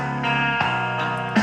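Music plays from a Tsumbay Bluetooth wireless speaker, an alarm clock and FM radio unit, with steady tonal notes and a few changing chords at moderate level, no voices.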